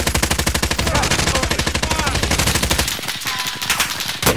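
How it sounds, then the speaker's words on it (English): Rapid automatic gunfire from a video game battle rattles loudly in dense bursts, then continues more unevenly with a few scattered shots, while players talk briefly. "Getting shot from Dent"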